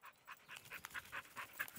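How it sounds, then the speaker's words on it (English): An English Springer Spaniel working as a biosecurity detection dog on a Scottish seabird island pants quickly and rhythmically, close by and fairly quiet, with no talk over it. "He is an English Springer Spaniel and he is our biosecurity detection dog for Scotland."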